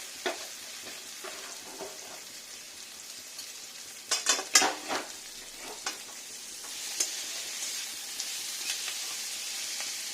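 Taro pieces fry in a hot wok with a continuous crackling sizzle, interrupted by a cluster of loud scraping and clinking stirs midway and lighter stirring afterward, close and without voices.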